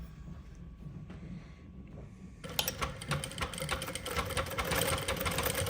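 A Jack sewing machine running a programmed stitch pattern starts abruptly after a quiet moment, giving a loud, fast mechanical rattle with a steady whir beneath it as it sews back and forth.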